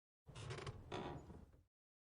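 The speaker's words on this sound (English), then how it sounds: "wait until you hear a creaking noise, which plays when Cat leaves from under the bed." In the Five Nights at Candy's video game, a drawn-out mechanical creak plays as Cat leaves from under the bed, two creaking swells lasting about a second and a half, isolated against silence.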